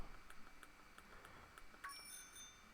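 A small bell in the video game Pokémon Sword, Isle of Armor, rings faintly in a quick series of light, evenly spaced dings over a soft ambient background.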